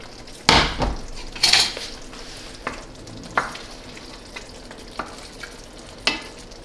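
A careful stir through a pot of Livornese-style salted cod stew with potatoes, spoon knocking against the pot in a few sharp clinks and scrapes over a faint sizzle, no talking.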